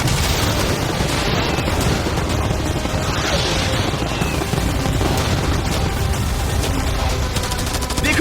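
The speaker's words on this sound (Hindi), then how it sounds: "मैं चाहता हूँ कि तुम कैनन्स, फायरवर्क्स, एरोज, कैटापल्ट्स सब कुछ एक साथ फायर करो।" Cannons, fireworks, arrows and catapults all firing at once in a dense, continuous barrage of blasts and crackling bangs, loud and unbroken throughout, with no talk audible.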